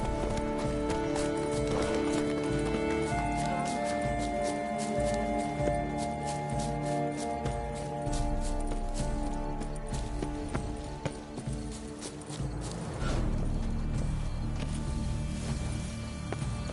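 Rhythmic clip-clop of a horse's hooves runs steadily in a PS4 game, close and continuous with faint mechanical clatter and no talking.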